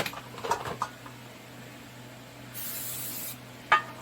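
A short hissing burst from a spray bottle, standing out alone against a quiet background while making imitation tofurky chik'n. Faint clicks come before it, and a sharp knock follows.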